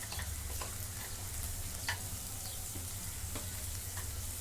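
Onion, garlic and masala sautéing in a pan for a matki sprout curry, a constant close sizzle broken by several sharp spoon scrapes, with a low hum underneath and no talking.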